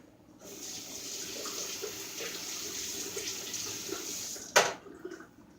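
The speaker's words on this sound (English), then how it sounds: "And then I wash my cans for recycle" Tap water running steadily into a kitchen sink while empty cans from chicken chili ingredients are rinsed out, a close hissing splash with a brief clunk near the end before the flow stops.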